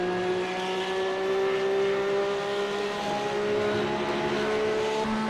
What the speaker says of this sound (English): Hear him hitting the limiter as they run into turn number 1